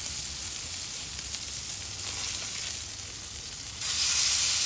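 Steaks sizzle on a Blackstone griddle in a steady, close, bright frying hiss that swells louder near the end, with no talking.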